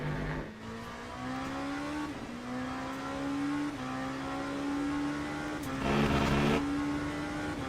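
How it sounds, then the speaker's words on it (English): In the Le Mans Ultimate sim, a race car engine holds a steady high-pitched drone and repeatedly bounces off the rev limiter, the tone sawing up and dropping in a regular rhythm, loud and continuous with no talk. "We're going to bounce off the limiter."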